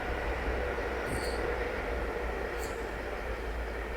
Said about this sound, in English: here we have another train zooming past us